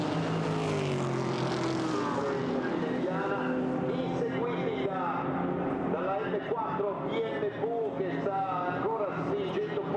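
GT4 race cars at Monza roar past with steady, loud engine noise that sweeps and shifts in pitch, while a commentator talks over it throughout.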